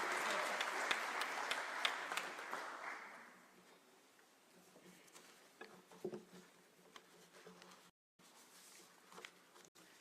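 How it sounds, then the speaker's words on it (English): An audience at a cultural heritage conference claps steadily at a distance for a few seconds, then the applause fades into scattered taps and faint room noise. "Keep clapping until she gets here, just to encourage her."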